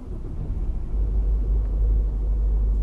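A truck engine heard from inside a well-insulated cab in Euro Truck Simulator 2: a deep, steady low rumble that swells slightly and then holds constant and muffled, with no voices.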